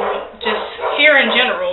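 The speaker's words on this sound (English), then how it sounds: "So excuse my dog, he's barking." A dog barks and snaps indoors, several barks blending with someone talking steadily over them at close range.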